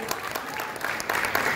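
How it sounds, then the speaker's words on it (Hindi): An audience applauds warmly for a film debut, a dense patter of clapping that grows louder toward the end with faint voices mixed in. "एक बार जोरदार ताली हो जाए"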